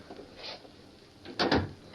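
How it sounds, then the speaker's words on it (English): A door closes with a brief double knock-and-latch thud near the end, preceded by faint shuffling, in a quiet indoor room. "Close the door."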